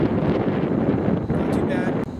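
Steady low wind rumble buffeting the microphone outdoors, continuous and fairly loud, with brief dips near the end.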